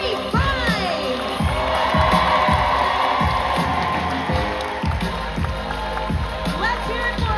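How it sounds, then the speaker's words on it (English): A Liverpool audience cheers and shouts throughout, with a steady thumping beat running underneath and voices carrying over the crowd noise. "Liverpool, please give a round of applause"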